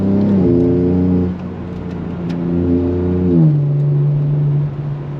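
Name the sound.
BMW M3 G80 xDrive car engine revving while driving through snow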